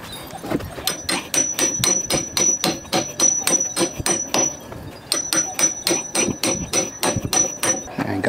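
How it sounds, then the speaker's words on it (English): Steady hammer blows drive carriage bolts into wood for a pergola build, a fast run of sharp, ringing impacts that pauses briefly, then resumes in another quick series. "now I'm gonna hammer in these carriage bolts"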